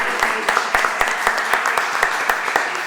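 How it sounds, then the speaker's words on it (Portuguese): Applause for the speakers at the close of a CRM sales-technology webinar: a steady run of separate hand claps, fairly close and moderately loud, with a voice faintly underneath. "peço uma salva de palmas para eles"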